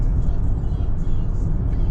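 A car driving freely along a main road in Jamaica on a scenic route through the Blue Mountains, a steady close low rumble of engine and tyre noise with no pauses.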